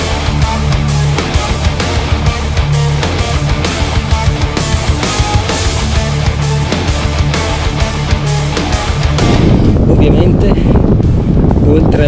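Strong wind roars across the microphone while cycling toward Montagnana in light drizzle, a loud continuous buffeting rush that swells even harder near the end, with people talking under it.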